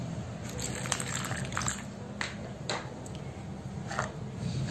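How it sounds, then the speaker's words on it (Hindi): Water poured into a bowl of glue while making a cement pot craft, heard as a few soft, close liquid splashes and drips over a low room hum. "अब हम इसमें ऐड करेंगे थोड़ा सा पानी।"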